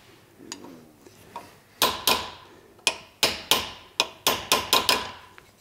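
Hammer blows on a screwdriver with a through-shaft and metal cap used as a chisel while working on a Vespa scooter, about a dozen sharp close metallic strikes, spaced at first and then faster.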